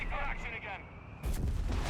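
A whiz bang artillery gun fires in Company of Heroes 3 on the L'Aquila map in a 3v3 match: a single loud, sudden blast that cuts in after a stretch of talk and other battle noise.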